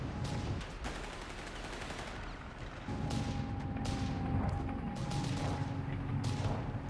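Howitzer artillery and other gunfire in the video game Company of Heroes 3 sound as dull booms and crackling shots in a busy, fairly quiet battle mix.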